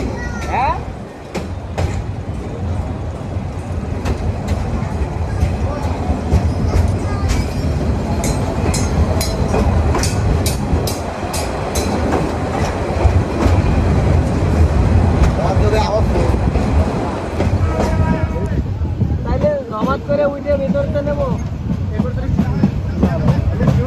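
The Probal Express pulls out of Sholashahar junction toward Chattogram railway station with a loud, steady rumble and rattle of wheels on rails that carries on unbroken throughout.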